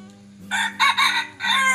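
A jungle fowl crows once, close and loud, its call broken into several harsh bursts over a low steady hum.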